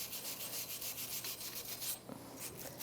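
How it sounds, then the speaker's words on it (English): Rust is scrubbed off the wheel hub of a 2013-2018 Toyota RAV4 during a front brake job, giving a steady, rhythmic rasping rub up close that breaks off near the end. "you're going to want to clean the hub up because you want that rotor to sit nice and flat"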